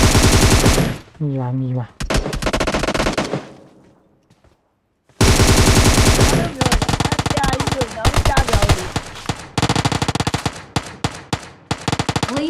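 PUBG Mobile gunfire crackles in rapid automatic bursts, loud and close, breaking off into a short silence before heavy sustained shooting resumes, with a voice speaking briefly between shots.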